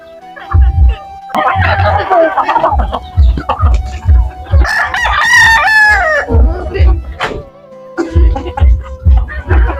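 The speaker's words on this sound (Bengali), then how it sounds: "আমার খামারে মোটমাট দেড়শো পিসের বেশি হবে মুরগি আসছে বর্তমানে" Desi chickens on a farm clucking close by in a busy, irregular chorus, with a rooster crowing loudly through the middle and bursts of background chatter and activity.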